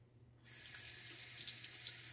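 Tap water starts running at full flow to rinse a safety razor during a wet shave, a steady close hiss that continues alone to the end.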